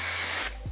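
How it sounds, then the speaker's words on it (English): Hair finishing spray hisses out of a can in one close, steady burst lasting about half a second, followed by a faint click. "this is my finishing spray"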